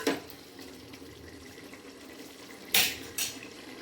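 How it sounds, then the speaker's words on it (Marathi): Rice tipped into a pot while layering chicken dum biryani, a soft clatter of metal and a couple of sharp scraping clinks near the end, close and fairly quiet. "आता आपण टाकूया याच्यामध्ये राईस."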